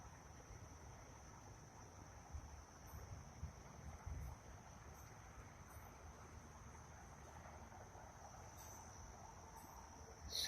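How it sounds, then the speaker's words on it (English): Insects buzzing outdoors in a steady high drone on a windy evening ahead of a hurricane, faint and continuous, with low wind rumble underneath and a few brief pulses. "Cicadas are in rare form."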